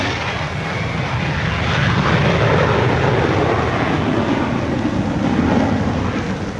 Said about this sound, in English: get a close look at the latest six-jet bomber